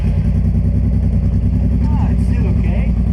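A custom Honda Transalp motorcycle engine idles close by with a steady, pulsing low chug throughout, while people talk faintly over it.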